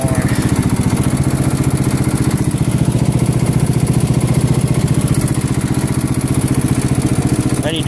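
A John Deere 110 garden tractor with an 8 horsepower engine runs steadily during a ride, its close, loud, rhythmic putter holding an even pulse throughout.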